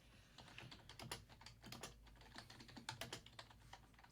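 Keys clatter on a computer keyboard in quick, uneven bursts of typing, steady and close, with no voices over them.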